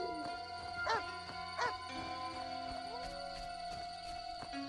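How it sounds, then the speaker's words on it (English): Hellhounds in The Witcher video game give out a couple of short whining howls amid a dense, steady in-game backdrop of tonal ambience and scattered effects, the howls fairly soft and brief. "There's all types of howling going on here."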